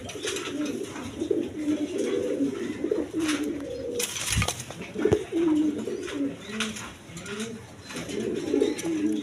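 Pigeons coo nearby in low, repeated rolling calls, with a few soft thumps and rustles in between.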